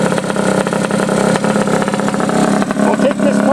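A Honda Dio scooter engine with a race exhaust pipe runs loud and close, a raspy two-stroke burble that keeps going throughout, with voices mixed in.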